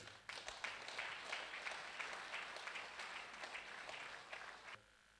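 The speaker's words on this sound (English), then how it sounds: "give His Excellency another round of applause" An audience at a stakeholder summit for persons with disabilities in Oyo State applauds His Excellency. The clapping is steady but faint and distant, then stops abruptly near the end.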